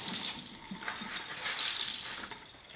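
Hot tap water runs into a farmhouse sink, a soft close splashing stream with slight gurgling variation, fairly quiet and continuous with no talking.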